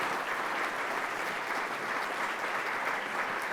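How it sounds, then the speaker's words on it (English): A room full of attendees at a Columbus Metropolitan Club event applauds for Ohio Governor Mike DeWine, steady thick clapping throughout with no break. "So how about another round of applause for Governor Mike DeWine"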